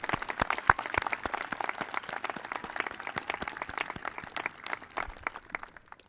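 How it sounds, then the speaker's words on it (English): An audience at a 2021 school graduation applauds the class officers: dense, steady clapping from many hands that fills the room for several seconds without letting up. "Let's give them a round of applause for their help during the school year."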